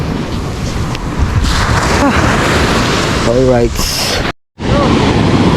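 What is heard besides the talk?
big ocean waves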